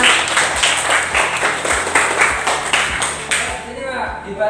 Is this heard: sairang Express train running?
no